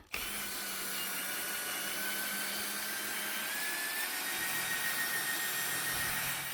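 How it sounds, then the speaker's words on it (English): A power drill scrubbing white car seats runs continuously with a steady high whir and a brushing, scrubbing hiss, close and unbroken throughout. "let me get my drill and come back in here again"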